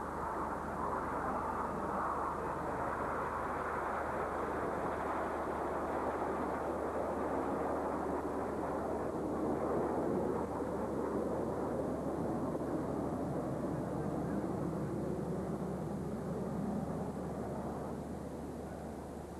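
Military jets flying in formation at an airshow roar as a distant, broad rumbling drone that swells and fades slowly through the whole stretch, with no voices.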